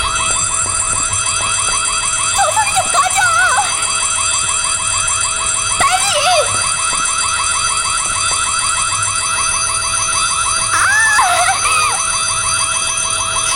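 A shrill electronic alarm siren wails nonstop inside a school building in the horror game White Day: A Labyrinth Named School, a loud steady warble with brief swooping tones layered over it a few times.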